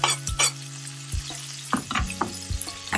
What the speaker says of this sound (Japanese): ニンニクと一緒に炒める、弱火でね